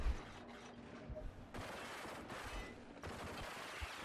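Machine gun fire in the video game Rage, in rapid bursts of quiet shots beneath a low ambient game soundscape, with short breaks between the bursts.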